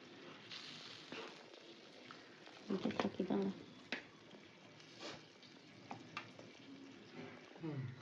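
Tilapia pieces dropped into a pan of mustard paste and water hiss and sizzle at close range, with a burst of louder spattering midway and scattered stirring clatter, under quiet speech.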